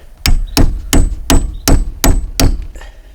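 A socket is hammered down over a battery terminal on a 6.0 Powerstroke diesel truck, giving seven sharp, evenly spaced metallic knocks, close and loud, each ringing briefly.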